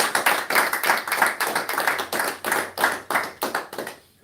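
Congregation at a temple service applauding together, a sustained patter of many hands clapping at close range for about four seconds before fading out at the end.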